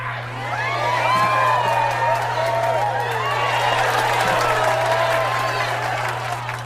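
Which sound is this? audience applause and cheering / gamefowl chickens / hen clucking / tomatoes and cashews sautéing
audience applause and cheering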